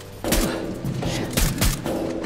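Suppressed gunfire in a video game, several sharp muffled shots spaced out over about two seconds, fairly loud and close with no talking.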